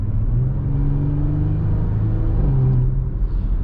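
2018 Audi SQ5 in sport mode on the road, its exhaust rumbling loud and close with a deep, steady drone that rises and shifts pitch as the engine revs.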